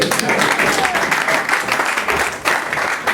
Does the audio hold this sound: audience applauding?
yes